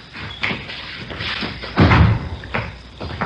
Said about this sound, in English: Here, I'll get the door.